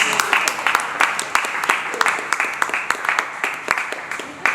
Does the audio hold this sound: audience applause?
yes